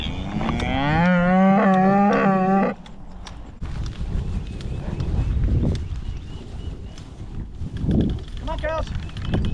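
Cattle being let into a forest: one cow gives a long, loud moo close by, followed by fainter lowing, rustling and shuffling hooves while a person calls to the herd.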